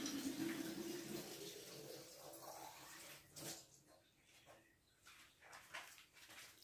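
Water pours steadily into a pot for about three seconds, then stops, followed by faint clinks and quiet handling noises, while measuring water for homemade olive oil soap.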